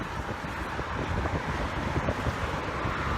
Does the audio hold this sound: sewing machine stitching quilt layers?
no